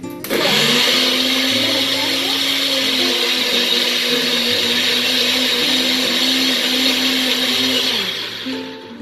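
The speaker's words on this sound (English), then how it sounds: "I only did a little so that to get my blender going." A blender blending celery whirs loudly and steadily for several seconds, starting abruptly and winding down slightly at the end, with no talking.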